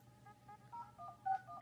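Phone keypad dialing tones: a quick series of short, distinct beeps at an uneven pace, some slightly louder than others, fairly quiet over a low background hum.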